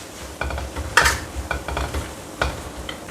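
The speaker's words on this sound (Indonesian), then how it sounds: "Pangsitnya harus dimasak keras ya, jadi harus dimasak sebentar ya." Wontons fry in hot oil in a pan. A close, crackling sizzle comes with a few sharper spits and stirring clinks.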